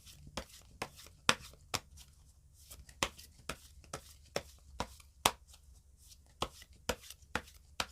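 Tarot cards being shuffled and drawn by hand, heard as a run of crisp, close card snaps and flicks in an irregular rhythm, with soft handling rustle between them and no talking.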